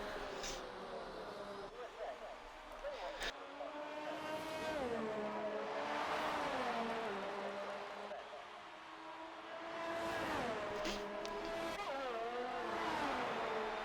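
A race car in a racing video game lapping the Italian Grand Prix circuit, engine whining up and down through gear changes as it brakes and accelerates, steady and moderately loud, with a commentator talking over it.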